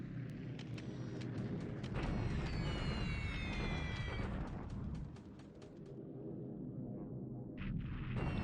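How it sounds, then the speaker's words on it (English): Naval guns bombard the Clark airfields in War in the Pacific Admiral's Edition, a dense, continuous rumble of distant booming blasts that swells and eases, with thin chirping tones flickering above. "Here I'm just bombarding Clark to keep the airfields damaged and eat up the supply from the anti-aircraft artillery."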